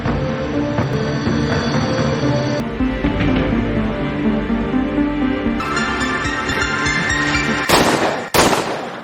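Pistol gunfire in a dramatic film scene: two sharp, loud bursts close together near the end, following a stretch of dense soundtrack.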